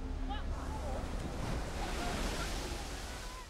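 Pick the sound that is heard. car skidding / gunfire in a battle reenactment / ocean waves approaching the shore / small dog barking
ocean waves approaching the shore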